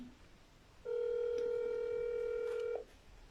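A single steady electronic telephone tone sounds for about two seconds against a quiet background, clear and close.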